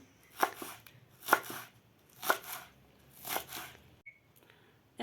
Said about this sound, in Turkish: Şimdi yeşil soğanımı doğrayacağım arkadaşlar.